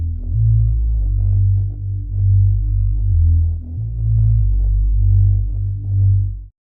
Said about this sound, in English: I've gone for a very subby bass off Analog Lab.